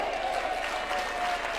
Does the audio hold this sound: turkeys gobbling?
no